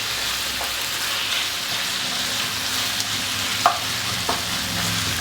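Chicken cooking in a pan, a steady, dense frying sizzle that holds throughout, with a couple of faint utensil taps and no talking.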